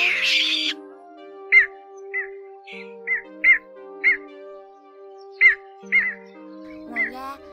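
Recorded calls of bitterns, cò hương and cò lửa, used as a bird lure: short, sharp croaking calls repeat at irregular intervals over a low steady hum, clear and isolated.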